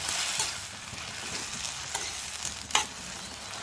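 Chopped tomatoes being stirred in a frying pan, a steady hissing sizzle close by with a few soft scraping strokes near the end and no talking.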